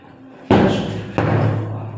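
Two heavy thuds of hook punches landing on a heavy bag during boxing practice, each a sharp impact with a lingering low thump, the second coming about 0.7 seconds after the first.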